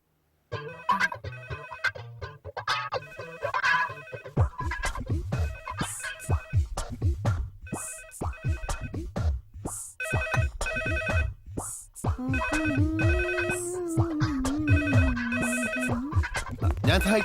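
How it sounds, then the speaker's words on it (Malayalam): A phone rings with a repeating electronic ringtone that carries on for many seconds, fairly loud and close, with other faint sounds mixed beneath it. "ഫോൺ"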